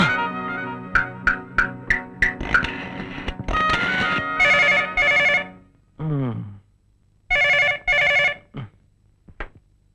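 A telephone rings in an old comedy film scene, with a series of sharp repeated rings followed by electronic tones and pauses, loud and clear.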